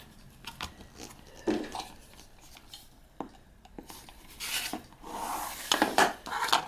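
Paper-pieced quilt block fabric is trimmed along a cardstock edge, with intermittent scraping and rubbing strokes and soft cutting rasps, close and moderately quiet, with no talking.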